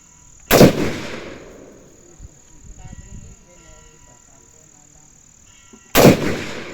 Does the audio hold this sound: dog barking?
no